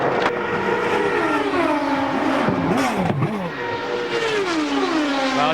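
An Indy race car's engine runs but makes no power during the 2003 Indianapolis 500. It hums steadily, its pitch sliding up and down through gentle, unloaded revs, close and loud throughout.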